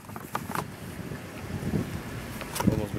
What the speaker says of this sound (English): It's too much wind.